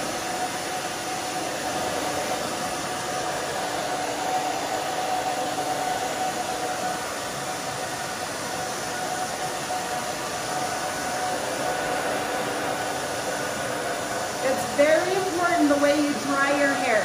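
A hair dryer blows steadily at close range while short pixie-cut hair is styled, a constant whooshing roar that shifts slightly as the dryer moves, with no speech heard over it.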